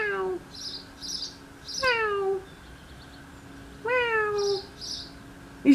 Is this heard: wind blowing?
no